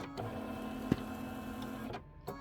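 Embroidery machine stitching a placement line for an appliqué test sample, a steady mechanical hum with rapid needle chatter and one sharp click partway through, then a brief stop.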